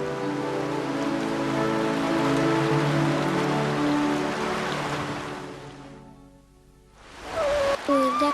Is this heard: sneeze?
no